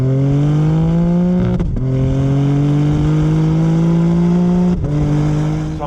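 A 2021 BMW M3 Competition engine accelerates hard, its loud, close note climbing steadily in pitch. Two brief breaks mark gear shifts before the engine pulls upward again, with no talk over it.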